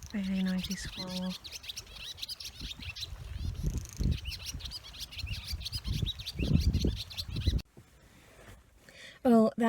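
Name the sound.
noisy squirrel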